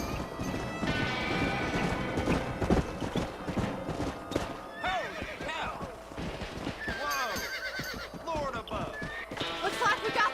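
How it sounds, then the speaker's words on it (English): A horse runs in Red Dead Redemption, with a thick, fast clatter of hooves and several loud neighs and whinnies over game music, and people talk over it at times. "Nossa, cavalo rampando a montanha."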